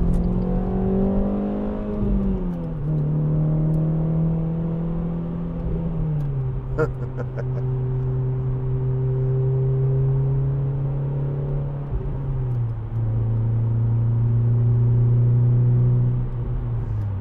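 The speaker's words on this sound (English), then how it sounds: "at certain revs, which I'll try and keep it at, and then give it some gas" The 2.0 VVT engine of a 2010 Renault Clio Renaultsport 3-door revs up and holds steady at several engine speeds, a loud close droning note that steps up and down in pitch with brief dips between.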